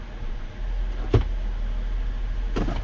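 A Ford vehicle with a 6F50 transmission idles steadily while warming up, a low constant engine hum with two brief louder clunks, one near the middle and one near the end, and no talking.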